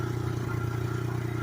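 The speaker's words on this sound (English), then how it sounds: "we're gonna have to engine brake this one" A three-wheeler pit bike engine brakes on a dirt track, giving a steady, loud low engine drone with a mechanical rattle that holds even and close throughout.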